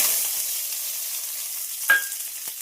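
Tempering spices go into heated oil for a thick dal and crackle in a soft steady sizzle, with two sharper pops near the end. The sound is close and there is no talking.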